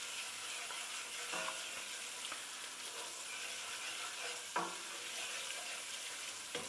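Dried parsley sizzling and frying in hot oil in a pan for a vegetarian puttanesca-style pasta sauce, a steady crackling hiss with a few sharp clicks and scrapes of stirring, heard close and without talk.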